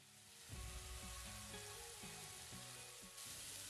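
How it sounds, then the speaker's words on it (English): Red bell pepper and grated beetroot sauté in a pan over a medium flame, giving a soft, steady sizzle with occasional stirring scrapes, faint and continuous. "Saute it for about 3 to 4 minutes on a medium flame."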